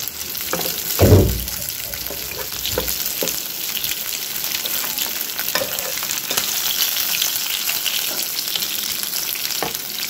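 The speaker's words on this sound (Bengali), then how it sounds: "মাছ ভাজি হয়ে গেছে" Fish fries in hot oil with a constant, close crackling sizzle, broken by a heavy clunk near the start and scattered light taps of a utensil against the pan.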